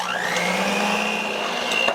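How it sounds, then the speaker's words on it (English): Electric hand mixer whirring steadily through butter and egg for cookie dough, a close, continuous motor whine with a faint beater scrape near the end. "I'm going to take my hand mixer and I'm going to mix that up"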